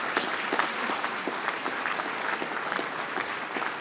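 Sustained applause from a large audience at an agricultural and environmental sciences graduation, honoring the graduates' supporters, steady dense clapping throughout at moderate distance.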